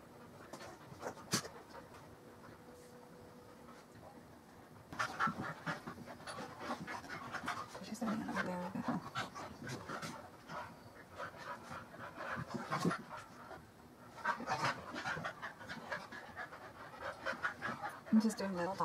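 Several dogs pant rapidly and steadily while playing indoors, the quick breathy huffs close and continuing throughout, with a few brief whimpers and bursts of movement, as a person talks over them.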